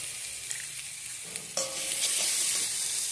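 Unripe jackfruit pieces fry and sizzle in a pan, with a steady hiss and a few clinks of stirring before the sizzle surges louder as the food is moved.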